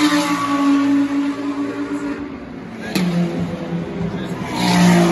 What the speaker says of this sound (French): là on va devoir écouter parce que les voitures sont en tête